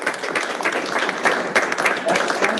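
A room of coworkers at a team meeting gives a round of applause, brisk uneven clapping from many hands with scattered voices and cheers underneath.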